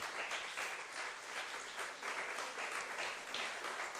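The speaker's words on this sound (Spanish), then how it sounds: "Aplauda la fidelidad de Dios" A church congregation applauds during a Spanish-language sermon, steady dense clapping from many hands held at an even level throughout, no voices over it.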